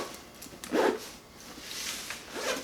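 Zipper on a GoGroove camera backpack's small storage compartment, pulled in a quick bright rasp with a second softer run near the end, close and fairly quiet.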